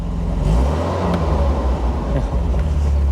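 A 1981 Triumph TR7 Convertible with a sticky throttle runs with a loud, steady engine drone and low rumble, the pitch rising slightly in spots, heard from inside the car.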